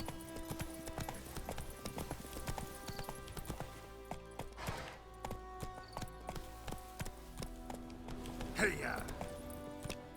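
Horse hooves clip-clopping at a gallop in The Witcher 3, a steady rhythmic patter under game music and effects, with a horse whinnying briefly partway through.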